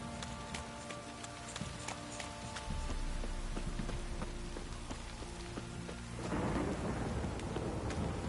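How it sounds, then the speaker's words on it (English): Heavy rain pours steadily while thunder rumbles and swells in The Witcher 3 on PS5, growing louder toward the end, with no voices. "This downpour's a bastard, it is."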